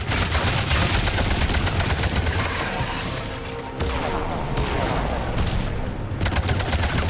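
Sustained gunfire in the sci-fi shooter Mass Effect 3, dense rapid bursts and booming shots rolling continuously at high loudness, with a short lull midway before the firing resumes.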